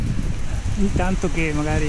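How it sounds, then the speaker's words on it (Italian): Strong gusty wind during a thunderstorm, a broad steady roar with rain, heard close beside an Italian castle while people talk over it. "perché oltre l'acqua c'è un vento, guardate che roba"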